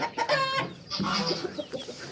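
Chickens cluck and squawk close by in a burst of short, choppy calls, with a bit of rustling movement around them.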